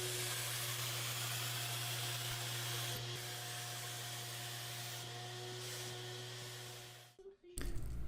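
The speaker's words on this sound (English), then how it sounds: "I'm going to be spraying that using my Fuji Q5 Platinum sprayer" A Fuji Q5 Platinum HVLP sprayer applying finish to a DIY twin bed, a steady, moderately loud whooshing hiss with a constant hum that cuts out near the end.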